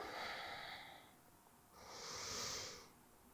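Slow, audible breathing during a home yoga session for beginners: a soft exhale, a brief pause, then a longer airy breath, close and quiet with no talking.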